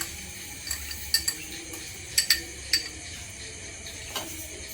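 Dal for payasam frying in an uruli pan, a faint sizzle beneath sporadic metallic clinks and scrapes of a spoon stirring against the pan.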